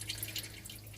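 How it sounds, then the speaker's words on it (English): Antifreeze drains from a boat engine block during winterizing, a faint trickle with light dripping and splashing over a low steady hum. "So I've got nothing but antifreeze draining out of my engine block"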